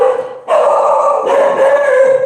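Dogs barking and yipping close by in a quick, excited series of loud calls with whiny, howling tones and no talk over them.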